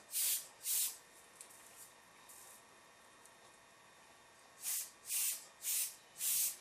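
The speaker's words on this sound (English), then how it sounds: "I'm spraying heavy in my V areas" Short bursts of airbrush paint spray hiss, two at the start and four more near the end, separated by quieter background; close and fairly steady, while painting a feather illustration.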